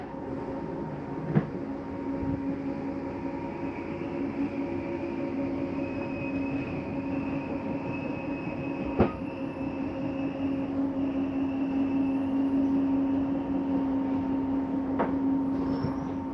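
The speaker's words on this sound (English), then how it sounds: "I want you to hear that noise. That is the slide mechanism saying I'm in all the way." Motor-driven slide-out mechanism of a 2022 Flagstaff Superlite 529RLBS fifth-wheel RV retracting fully in, a steady droning whine and hum throughout with a few sharp clicks or clunks along the way, no talking.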